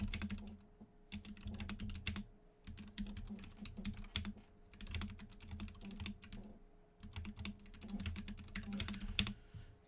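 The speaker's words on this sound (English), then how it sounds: "I'm gonna type that." Computer keys clatter in quick bursts of typing, close and fairly quiet. Brief pauses separate the flurries of keystrokes, with a faint hum underneath.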